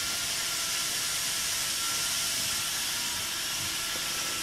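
An orange model train runs on its track, giving a steady hiss-like rumble that holds fairly loud and even throughout, with no talking.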